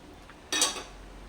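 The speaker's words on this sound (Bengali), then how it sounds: "ঢাকনা খুলে দেখে নিই আলুটা সেদ্ধ হয়েছে কিনা" A metal lid lifted off a pot of boiling potatoes, giving one short clattering clink with a brief metallic ring that fades quickly against a quiet background.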